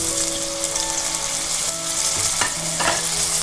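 Tomatoes frying in oil in a pan with curry leaves, a bright steady sizzle broken by a few short scraping stirs, close up and with no talking.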